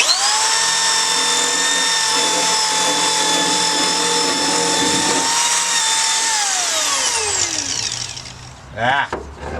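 A power drill whines at a steady high pitch for several seconds, then winds down as the motor stops, followed by a brief rattle.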